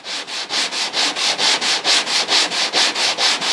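Rhythmic back-and-forth sanding of a guitar brace on a radiusing jig, a steady run of about a dozen loud, close scrubbing strokes with no talking.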